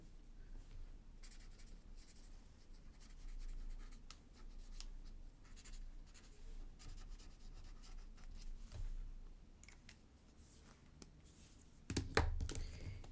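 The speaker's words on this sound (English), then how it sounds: "I can sort of color directly on the paper, and that way I can add a little bit more" A pencil colors on grid paper in a planner, making soft, faint, continuous scratchy strokes close to the microphone, with a slightly louder bump near the end.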